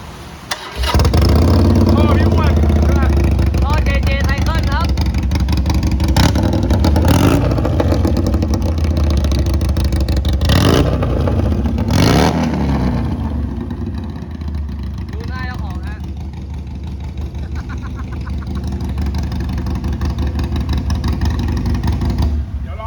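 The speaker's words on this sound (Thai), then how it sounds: "อันนี้ก็เป็น ไอรอนนะปีรถหนึ่งปีนะเหมือนรถใหม่เลยอะ ได้ฟังเสียงทีครับ" A one-year-old Harley-Davidson Sportster Iron 883 motorcycle engine runs loud and close, with a steady rumble broken by several sharp throttle blips and revs, then settling toward a lower idle.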